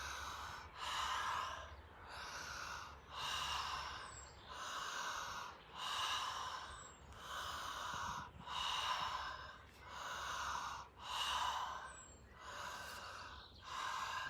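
Deep, slow meditative breathing during a chakra breathing meditation, with roughly nine or ten rhythmic, close-miked breath cycles of airy inhales and exhales, soft and alone.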